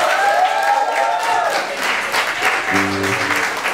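Live music crowd applauding a rock band at a bar, a dense wash of clapping and crowd noise throughout, with a tonal musical note rising near the end.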